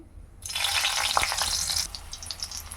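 Fennel seeds, cumin and garlic hit hot oil for an egg curry. After a brief quiet moment a loud, bright sizzle bursts out and crackles steadily, easing slightly toward the end.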